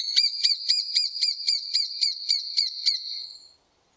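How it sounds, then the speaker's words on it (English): A lesser spotted woodpecker gives a rapid series of about twelve high, thin, evenly spaced 'kee' notes, heard close and clear for about three seconds before stopping, with nothing else audible. "This call is regarded as weaker and softer compared to that of the greater spotted woodpecker."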